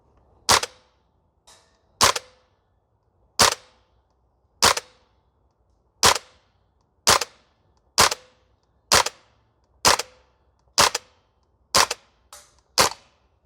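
VFC UMP45 airsoft gun fires BBs on a range, about a dozen sharp, loud single shots spaced roughly a second apart, each a crisp snap with a brief tail, near and alone against a quiet background.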